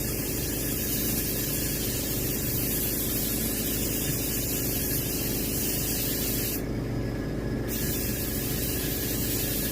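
An airbrush or spray gun hisses steadily and loudly for several seconds, close up, while paint is sprayed onto a mounted striped bass (rockfish), the dense hiss broken by a brief shift in tone near the end.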